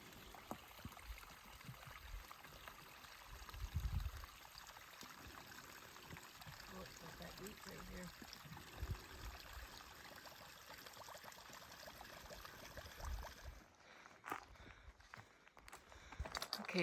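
A mountain stream flows along the Pacific Crest Trail as a continuous trickling wash of water, with footsteps and brief handling noises over it.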